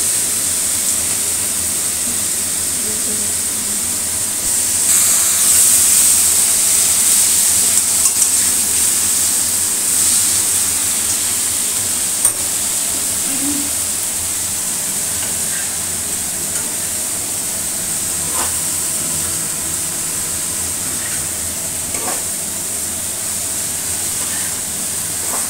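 Cauliflower frying in a pan while it is stirred, heard as a steady sizzling hiss that runs without a break throughout, with a few faint scrapes and knocks from the stirring and no talking.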